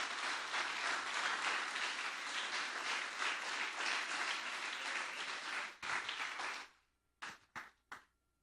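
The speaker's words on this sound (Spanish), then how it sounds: "Denle un fuerte aplauso al Rey de Reyes." A church congregation claps loudly and steadily for several seconds, then the applause fades out into a few last scattered claps.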